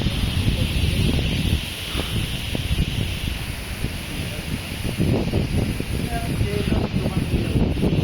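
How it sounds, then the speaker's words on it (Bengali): A strong storm wind blows across a rooftop, a loud continuous roar and buffeting against the microphone with rustling gusts, under occasional voices. "এই যে এখন যে হাওয়াটা মারছে এরকম"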